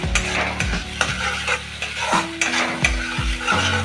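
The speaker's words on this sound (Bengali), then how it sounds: "ভালো করে নাড়তে হবে" A spoon stirs pea kachori filling in a hot frying pan, giving a steady scraping rhythm with soft sizzling underneath. The sound is close and fairly loud, with no speech.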